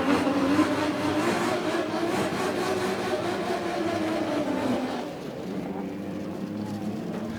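Engine roar of drift cars throwing up terracotta dirt on the inside line of a speedway circuit at Baypark Stadium, a steady loud drone with a rougher tone that drops slightly in the last couple of seconds.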